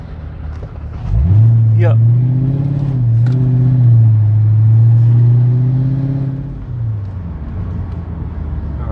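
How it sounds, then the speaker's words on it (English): A Mercedes R230 SL500 with a faulty 722.9 transmission accelerating hesitantly, its engine droning and rising in pitch before the revs fall away, heard close from inside the car with a short spoken remark. "I roll on the gas. It doesn't do anything. Hard downshift."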